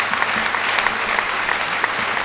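A church congregation claps in dense, steady applause during a sermon service, many hands together at moderate volume, continuous and without voices on top.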